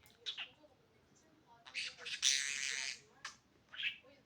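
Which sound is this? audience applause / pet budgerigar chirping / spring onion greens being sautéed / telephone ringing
pet budgerigar chirping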